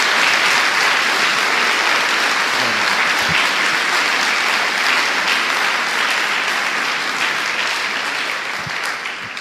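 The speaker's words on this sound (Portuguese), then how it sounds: "Dá uma salva de palmas para Jesus." A church congregation gives sustained applause during a Portuguese-language service, a thick, continuous roar of many hands clapping that stays loud for about nine seconds and tapers a little near the end.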